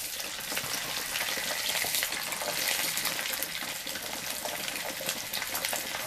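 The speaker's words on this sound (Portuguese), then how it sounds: "Agora nós vamos terminar de fritar essas três fatias." Three slices of rolled pork belly crackle and sizzle steadily in very hot fat, a loud, close, continuous frying hiss with no talking.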